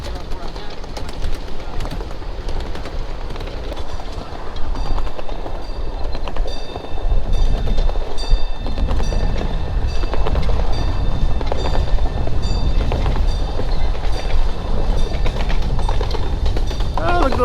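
A ride-on model train rolls through haunted-themed woods, its steady rumble and clatter continuous throughout, with voices talking over it and occasional birdsong in the background.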